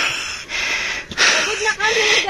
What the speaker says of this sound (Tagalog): Grabing hingal.